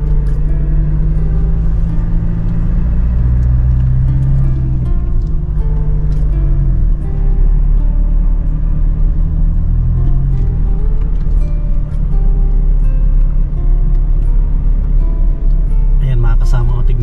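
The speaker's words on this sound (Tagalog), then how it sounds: "Yung tricycle gumagapang, hirap na hirap." A motorcycle-based tricycle strains uphill on a winding mountain road near gold-mining diggings, its engine laboring in a steady low, loud rumble that fills the whole stretch without letup.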